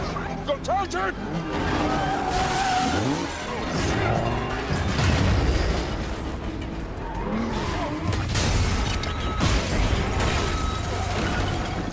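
An SUV smashes through a police station in a movie car chase: loud tires squeal and skid, and heavy crashes and impacts sound over a constant rumble, with a voice speaking over the action.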